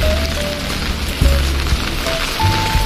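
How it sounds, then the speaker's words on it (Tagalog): Steady rain drumming on an outdoor setup, a dense continuous patter with a few louder, heavier drops and low thuds, fairly close and loud throughout. "inabutan na tayo ng ulan mga kuys"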